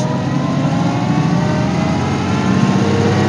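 A 1930 Willys Whippet classic car pulls away under power, its engine giving a loud, close, steady drone that stays even throughout, with no voices.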